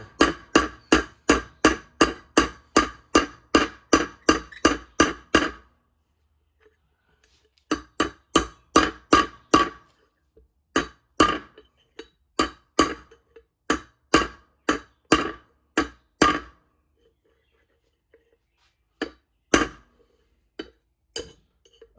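Sharp metallic hammer strikes on a trailer wheel hub ring out in a fast, steady series, then continue in irregular bursts and single blows with pauses between.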